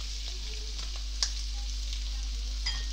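Prawns sautéing in a pan with ripe mango pieces, a steady low sizzle with a few soft clinks as the pan is tossed, no voices.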